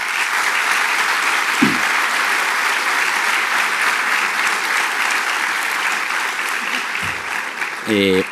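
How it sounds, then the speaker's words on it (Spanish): An audience at a cultural centre debate on economic inequality applauds the debaters, with sustained, full clapping that carries on steadily and then ends with a few short sounds. "Un aplauso para ellos, por favor."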